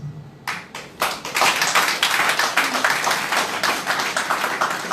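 Audience applause at a consortium launch event, starting after a brief moment and swelling into sustained, dense clapping that fills the room, loud and steady throughout.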